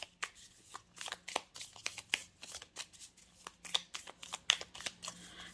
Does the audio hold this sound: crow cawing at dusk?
no